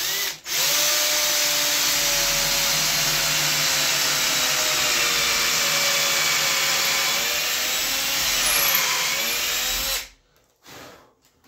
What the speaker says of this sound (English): Let's drill a hole here.